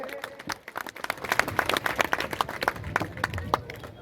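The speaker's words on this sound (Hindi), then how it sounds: "तालियां तो बजाते रहो थोड़े।" Audience clapping at a hostel inauguration ceremony in Malpura, with irregular hand claps building in density over a few seconds, moderately loud beneath a murmur of voices and background talk.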